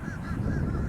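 Geese honking, a brief wavering call over a loud low rumble of wind and engine noise.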